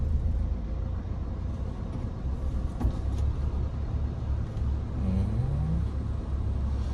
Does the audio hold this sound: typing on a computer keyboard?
no